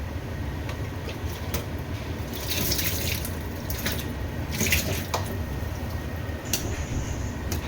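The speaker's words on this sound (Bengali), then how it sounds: "আরটা জল দাও তো।" Water poured into a pan of cooking fish, a steady close splashing and running-water sound that holds for several seconds with brief louder surges and no talk.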